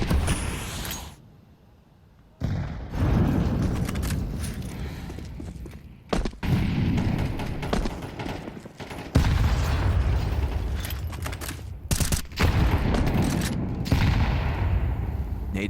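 Gunfire and grenade blasts from an esports shooter grand final match, with dense bursts of shots and explosions, a brief quieter gap early on, then sustained loud combat noise throughout.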